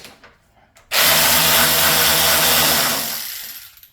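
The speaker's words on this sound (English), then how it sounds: "You don't have to have an automatic wrench like this." An automatic wrench whirs loudly for about two seconds as it removes parts from a Suzuki V-Strom motorcycle during a spark plug change, then winds down into quiet.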